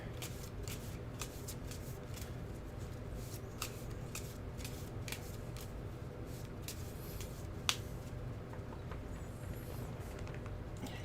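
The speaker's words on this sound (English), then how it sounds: "Just gonna shuffle that a little bit more." A deck of cards being shuffled at a tabletop game, a quiet, close series of quick riffling and snapping flutters repeating steadily for about eleven seconds, with no speech.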